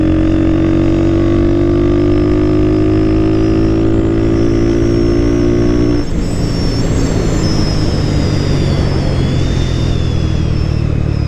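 A Honda Twister motorcycle, recently modified and running poorly with its carburetor still unadjusted, idles loudly out on the street with a steady engine drone that shifts in pitch, then roughens into a broader rumble about halfway through.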